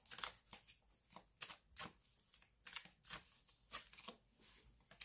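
Tarot cards are shuffled close up in quick riffling bursts, a soft rapid flutter repeating about a dozen times with no talking.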